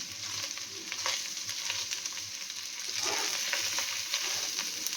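Rice fries in ghee in a pan for egg biryani, giving a steady close sizzle with soft scraping as it is stirred, continuous throughout with no talk.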